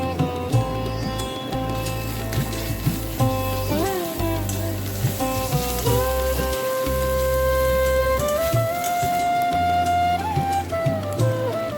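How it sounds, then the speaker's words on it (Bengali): Sliced onion frying with garlic and ginger paste in a pan as it is stirred for chicken curry: a steady crackling sizzle under a prominent tonal background, with occasional scrapes. "পেঁয়াজ ভাজা হলে বাকি রসুন আর আদা বাটা দিয়ে 1 মিনিট নেড়ে নিন।"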